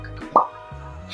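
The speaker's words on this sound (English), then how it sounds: "Just crack some knuckles." A single short knuckle crack, a quick sharp pop heard once at close range in a quiet indoor room, with a faint voice nearby.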